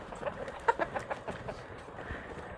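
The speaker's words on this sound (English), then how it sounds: "Sorry, chickens, I scared you." Startled backyard chickens cluck in a quick series of short, moderately loud calls near the start, tapering into softer scattered clucks.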